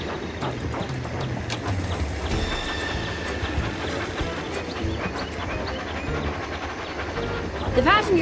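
A toy train from a Thomas & Friends video game rolls along with a steady rumble and rhythmic clatter, a few chime-like game tones on top and a brighter burst near the end.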